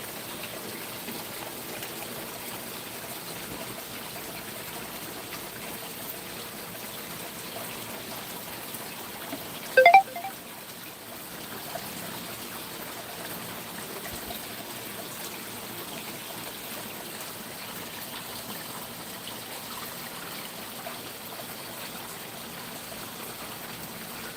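Water poured from a watering can onto freshly planted seeds in garden soil, a steady soft trickle running alone throughout with one brief louder splash midway.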